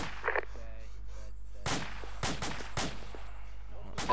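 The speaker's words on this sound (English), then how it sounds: "He's open fire now." Gunfire from an enemy position down in a valley during military training: several sharp, loud shots in an irregular burst over a steady background hum, with voices talking faintly.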